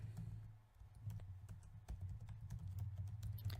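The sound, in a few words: typing on a computer keyboard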